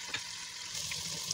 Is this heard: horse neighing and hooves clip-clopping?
no